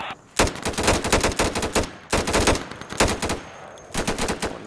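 Close automatic gunfire fills a military shooter video game, in repeated rapid bursts separated by short gaps, loud and harsh with no talking.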